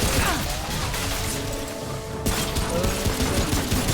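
Sustained rapid gunfire from a minigunner enemy in the video game Remnant: From the Ashes, a dense continuous barrage with a brief lull before firing resumes loudly.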